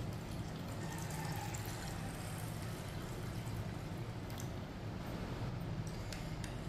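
A glass of water poured onto chana dal with a little baking soda in a cooking pot, a steady watery pouring and trickling wash running throughout at moderate, close level with no talk.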